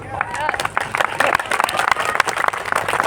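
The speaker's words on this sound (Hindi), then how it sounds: "आप दूसरों के लिए तालियां बजा रहे हैं" Audience clapping at a university program, scattered sharp claps mixed with crowd noise and a voice speaking over it.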